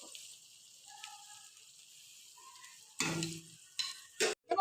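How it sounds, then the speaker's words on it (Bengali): Ginger, garlic and green chilli paste fries in a pan. A quiet stretch with faint tones gives way to several short, loud sizzling bursts near the end. "এবার মশলাটাকে ভালো করে কষিয়ে নেব"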